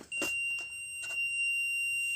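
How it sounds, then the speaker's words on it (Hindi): A multimeter on continuity mode beeps while testing a fuse: a steady, piercing electronic tone holds almost the whole time, broken by a few soft clicks of the probes near the start and middle. "आगे बीप, मल्टीमीटर देखिए।"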